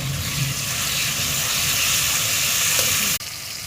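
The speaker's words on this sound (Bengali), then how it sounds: "পেঁয়াজগুলো ভালো করে ভেজে নিলাম।" Chopped onions fry in a pan for a chicken dish, giving a steady, fairly loud broadband sizzle and hiss that holds unbroken for about three seconds and then cuts off abruptly.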